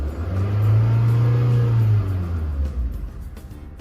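A 2010 Honda City engine with an unstable idle revs up, rising into a strong, close, sustained rumbling drone that holds for about two seconds, then falls back toward a steady idle.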